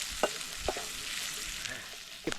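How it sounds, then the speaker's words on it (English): Buff innards frying in a pan and being stirred, a steady bright sizzle with a few sharp scraping knocks of the spoon near the start, middle and end. "So we stir it for some time."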